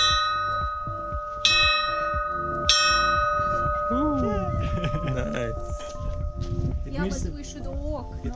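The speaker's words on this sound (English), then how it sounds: "If you reach the church, you have to do three times the bell." A village church bell in Crete rung three times: bright metallic clangs at a steady interval, close and loud, each followed by a ringing decay. Voices talk over the later strikes.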